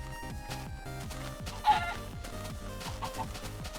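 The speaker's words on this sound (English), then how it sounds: "Chicken's still faster than us though." A chicken in the Minecraft video game (Beta 1.8) clucks once amid quiet, rhythmic in-game background music and sounds, faint and brief.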